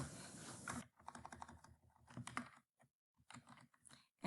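Computer keyboard typing near the microphone, a few short bursts of light key clicks separated by silent pauses, no voices.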